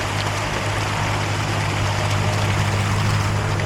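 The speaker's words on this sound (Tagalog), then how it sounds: "Ang lakas ng agos ng tubig." Steady, loud rushing water of a strong mountain stream roars without pause, with a low hum running underneath.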